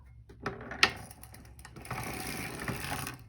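A hand-cranked sock knitting machine knits a row of a toe-up sock, giving a quick run of close mechanical clicks and ratcheting clatter with one sharper snap near the start, heard nearby and alone.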